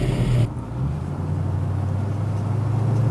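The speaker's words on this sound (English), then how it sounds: "now you get a chance to see this Mustang go down the road" A 1964 Ford Mustang 289 V-8 coupe with automatic transmission cruises down the road, its engine giving a steady low drone that holds constant throughout, with a brief brighter burst of road and wind noise at the start.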